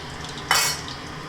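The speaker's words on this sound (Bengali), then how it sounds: "ফোড়নটা একটুখানি ভাজা ভাজা করে নিয়ে মশলাটা ছেড়ে দেবো" Spices tempering in hot oil with ginger, tomato, cumin and coriander burst into a short, loud sizzle midway, fading into a soft steady fry with faint pan clatter.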